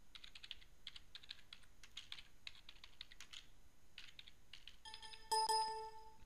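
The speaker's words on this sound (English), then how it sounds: "in here, we type the more marketing name" Quick, light clatter of typing on a computer keyboard entering a menu item name into a restaurant point-of-sale system, steady bursts of keystrokes, fairly quiet and close, ending with a bright electronic chime.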